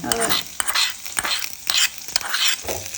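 Onions and curry leaves frying with mustard seeds in hot oil for a simple curry, loud crackling sizzle with the seeds popping and a utensil scraping the pan as it is stirred.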